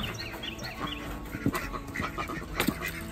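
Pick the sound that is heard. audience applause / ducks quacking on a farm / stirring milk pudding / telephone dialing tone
ducks quacking on a farm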